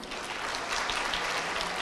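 Audience applause at a Turkish municipal event honouring the sanitation department director and team, a dense, steady patter of clapping heard alone for about two seconds at moderate distance.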